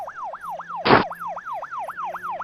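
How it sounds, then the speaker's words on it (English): Police siren wailing in a rapid, repeating up-and-down yelp, loud and close behind, with a brief burst of broadband noise interrupting it once. "A police siren right behind us."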